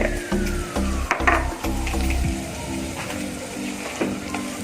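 Chili powder is stirred into a hot pan for Kerala sadhya-style mulaka pachadi, giving a steady sizzle and frying hiss with light scraping under faint background music.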